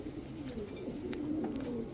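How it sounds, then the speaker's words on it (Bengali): A black-tailed female pigeon coos in a low, steady, murmuring warble, close and moderately quiet, with no talking. "একেবারে ফুল ফ্রেশ একটা মাদি কবুতর"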